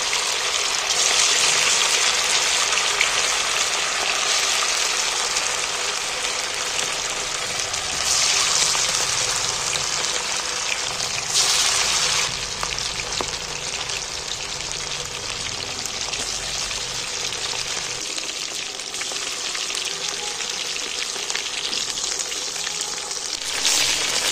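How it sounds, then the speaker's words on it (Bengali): Chicken pieces for a coriander-leaf chicken dish frying in hot oil, a steady, dense sizzle that carries on loudly and evenly throughout with no talking. "এবার আমি বাকি মাংসটা তুলে দিচ্ছি তেলের মধ্যে।"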